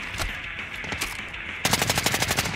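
Automatic gunfire in the Call of Duty Modern Warfare video game, scattered shots early, then a loud, rapid sustained burst of machine-gun fire close by in the last second.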